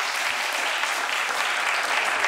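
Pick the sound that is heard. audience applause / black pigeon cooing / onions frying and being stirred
audience applause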